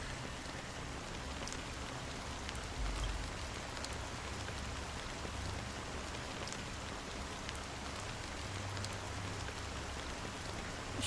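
Steady rain in a video game pours down without pause, a dense even patter of drops on surfaces with a low rumble underneath and no voices.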